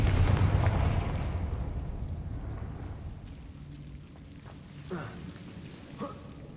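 A Confringo blasting spell in the Hogwarts video game goes off with a loud burst and rumbling explosion at the start, decaying into crackling debris noise and a few fainter magical chimes afterward.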